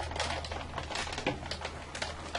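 Faint, rapid clicking and ratcheting as an embossing folder holding cardstock is cranked through a manual die-cutting machine, close by and quiet over a low steady hum.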